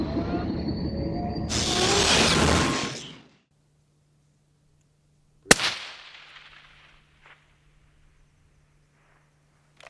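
A 224 Valkyrie rifle shot at one mile: a sharp crack, then a long decaying rumble echoing across open ground, with a faint impact after a pause amid a steady low hum, no speech.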